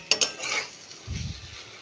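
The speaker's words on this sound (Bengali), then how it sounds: "এটা পেঁপে আর আলু দিয়ে ভাজা করছি" Papaya and potato frying in a pan are stirred: two sharp utensil clinks against the pan, a soft sizzle, then a low scraping stir, all close and brief.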